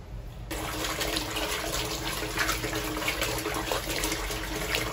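Tap water running steadily while pork intestines are washed in a kitchen sink, a continuous close splashing rush with no talking.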